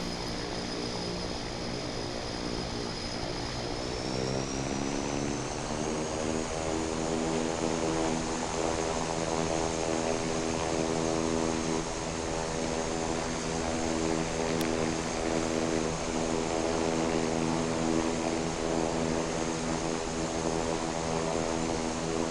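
Bombardier Dash 8-Q400 turboprop engines taxiing in the Infinite Flight simulator, with a steady loud propeller drone and a high whine that rises in pitch early on, then holds constant and close throughout.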